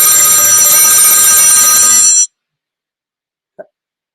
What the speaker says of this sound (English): you can get phone calls right in the middle of your video